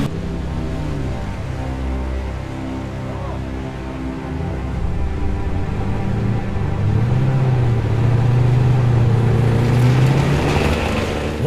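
Rally cars, including a Porsche 356, drive along a road section with a steady engine drone that grows louder and rises in pitch as a car approaches, loud and continuous with no voices.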